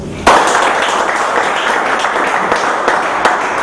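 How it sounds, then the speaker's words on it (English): An audience in a hall breaks into steady applause, a dense, loud wash of many hands clapping that carries on for several seconds, with a few sharper individual claps standing out. "Applause, please."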